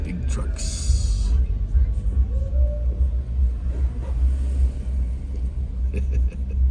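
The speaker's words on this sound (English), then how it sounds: "Big trucks." Big trucks rumbling past on the strip at Geneva on the Lake, Ohio, during the Thunder on the Strip event, a heavy, steady low engine drone close by, with people talking over it.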